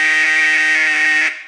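A duck call is held on one steady, raspy vowel, a loud, continuous buzzy tone that barely changes and then cuts off and fades near the end, with no talking.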